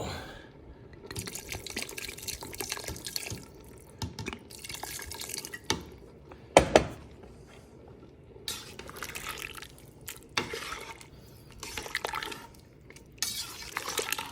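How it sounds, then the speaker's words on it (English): White wine poured into risotto Milanese simmering in a pan, a soft liquid trickle and drips with faint stirring and pan clinks, quiet and close with no talk. "we're gonna add some more wine in right now"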